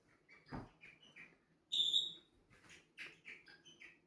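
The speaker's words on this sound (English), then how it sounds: "a noisy bird." A single bird gives a short burst of high chirps and whistles, followed by a few softer, scattered tweets nearby in an otherwise quiet setting.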